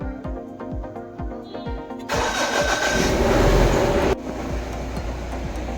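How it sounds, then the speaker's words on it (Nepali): A car engine cranks over with steady rhythmic starter pulses, catches loudly and roars briefly, then settles into a rumbling idle. "अब म भेहिकल स्टार्ट गर्छु।"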